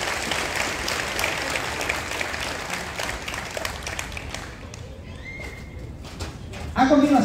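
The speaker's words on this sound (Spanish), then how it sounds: "Un muy fuerte aplauso para estos reconocidos estudiantes representativos" Audience applause at a preparatory school graduation ceremony, a broad wash of clapping that gradually thins out, with voices emerging near the end.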